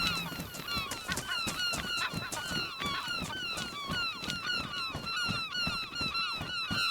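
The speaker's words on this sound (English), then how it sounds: "Those seagulls are begging to get shot." A large flock of seagulls in the video game DayZ calls loudly and continuously, dense overlapping squawks and cries filling the whole stretch without pause.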